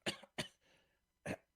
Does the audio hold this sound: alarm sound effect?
no